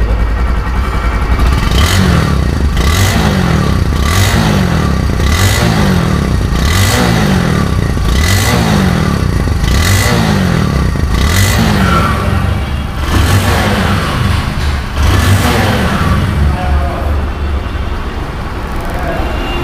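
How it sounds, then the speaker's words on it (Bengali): A Bajaj Discover 100cc motorcycle engine running close to the microphone, loud and steady with a rhythmic pulsing drone and repeated revving swells and clatter, no voices over it. "গাড়িটির সাউন্ড রানিং অবস্থায়।"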